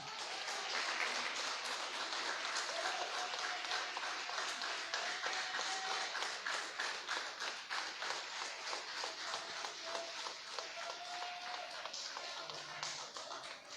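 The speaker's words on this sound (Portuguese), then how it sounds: "Dê mais uma salva de palmas para o Senhor Jesus, que Ele merece." A church congregation claps together in steady, rhythmic applause that continues for over ten seconds, moderately distant and fairly even in loudness.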